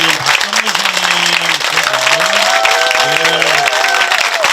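A congregation at an outdoor Monday Mass for Saemangeum ecosystem restoration claps loudly for its elder priests, with dense, sustained applause and voices calling out over it.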